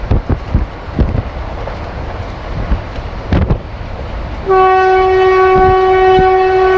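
Katwa–Nimtita passenger train running at speed, rumbling and clattering close by with scattered thumps, then a loud sustained horn blast cuts in for the last two seconds and keeps sounding.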